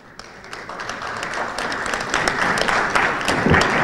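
An audience at a mobility conference applauds to welcome Intel Türkiye's country manager to the stage, clapping that starts thin and builds into a steady, moderately loud round.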